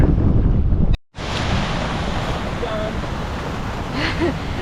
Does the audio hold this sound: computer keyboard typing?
no